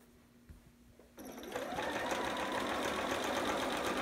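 A sewing machine stitches a Riley Long John Sitter, starting after a quiet second and then running steadily and loudly close by, with no talk.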